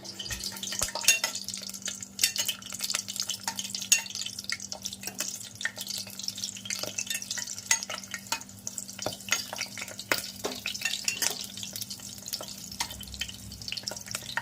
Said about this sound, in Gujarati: મરચા તળાય મરચા